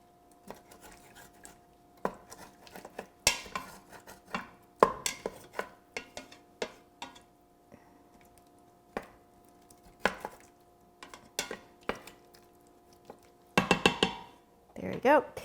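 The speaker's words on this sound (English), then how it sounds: "I'm just going to use my spatula to get the little bits off the bottom." A spatula scrapes the bottom of a pot deglazed with wine for Tuscan spaghetti, sounding as irregular short scrapes and taps, some sharp and close, separated by quiet gaps with a faint steady hum.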